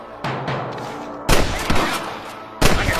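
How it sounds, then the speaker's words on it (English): Gunfire in the Western video game Red Dead Redemption: loud, close shots crack out in bursts, with a heavy volley near the middle and another at the end over a rumbling background. "I can hear more gunshots"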